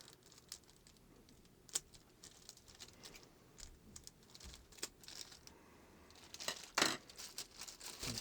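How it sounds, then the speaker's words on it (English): Scissors snip and peel tape off the touch-sensitive controls of a Honeywell HWT-H9 desk light, a sparse series of quiet close clicks, crinkles and tearing sounds with pauses, louder toward the end. "So get a pair of scissors"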